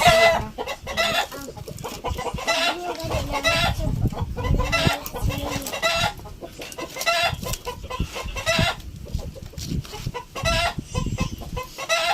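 A hen clucks loudly and repeatedly nearby while laying eggs, with agitated cackling rising and falling continuously over background noise.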